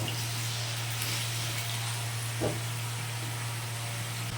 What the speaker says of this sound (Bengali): গ্যাসটি বাড়িয়ে দিয়ে আমি আলুগুলো ভেজে নেব